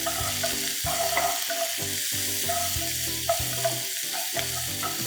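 Prawn Manchurian masala sizzles in a pan as it is stirred with salt, a steady bright frying hiss under prominent background music throughout.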